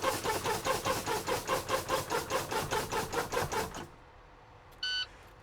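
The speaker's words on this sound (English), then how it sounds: "Emergency signal, emergency light around 60 psi works properly" Truck air brake low-pressure warning buzzer during a CDL pre-trip inspection, pulsing loudly in a steady rapid rhythm of about fifteen beats, then cutting off into quiet with a brief short tone near the end.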